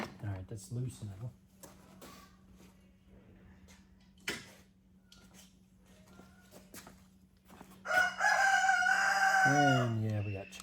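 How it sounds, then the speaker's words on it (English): Chickens around a garage, with a rooster crowing loudly and fairly close near the end, after a stretch of speech, clucking and workshop clatter under a steady electrical hum. "And yeah, we got chickens."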